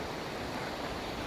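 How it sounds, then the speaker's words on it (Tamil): Stream water rushing through a forest on an avalanche-country trip, a close, steady broadband hiss of flowing water with no breaks, alone and fairly loud. "இந்த நீரோட தண்ணி போகிறது சலசலப்பு எவ்வளோ சூப்பராக அப்படியே சவுண்டு கேட்குது பாருங்கள்"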